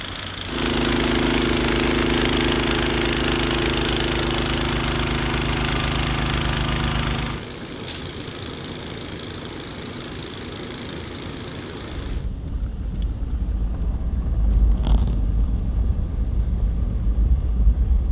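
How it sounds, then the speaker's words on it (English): A snowblower runs loud and steady while clearing snow at a property, its engine droning close by, then easing to a lower rumble before revving harder again toward the end. "that's why Eric brought the snowblower"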